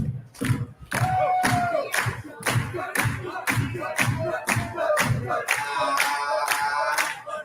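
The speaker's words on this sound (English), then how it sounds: "everybody do this. Clap your hands at this tempo." A crowd clapping hands in unison to a steady tempo, about nine loud, evenly spaced claps under shouting and vocal sounds, building into louder, mixed crowd noise at the end.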